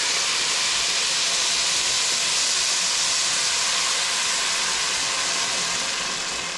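Water poured into a hot pot of rice gives a steady, loud, broadband hiss that holds without break, fading only slightly toward the end.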